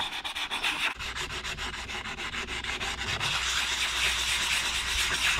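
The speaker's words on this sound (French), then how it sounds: "Donc là on va les poncer légèrement et on va les teinter." Wood is lightly sanded before staining, with a close, continuous abrasive rubbing in steady back-and-forth strokes that turn into a smoother constant scrub, no voices.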